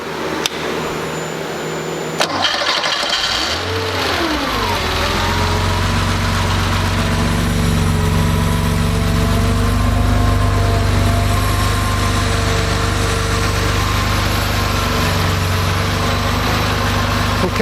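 Porsche engine with L-Jetronic CIS fuel injection given a hot start after sitting about 20 minutes: a short starter crank, a quick catch, then a steady rumbling idle that settles and continues close and loud.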